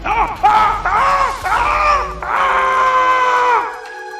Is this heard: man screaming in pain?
yes